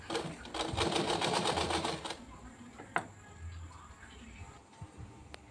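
A sewing machine runs in a fast, even stitching burst for about two seconds while sewing a baby shirt, then stops. A few faint clicks follow against quiet room noise.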